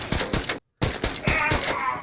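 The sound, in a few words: pistol gunfire in a jungle survival shooter video game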